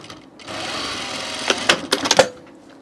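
A sewing machine whirs briefly while stitching a French seam on a shirt, with a burst of rapid clattering stitches near the end before it winds down.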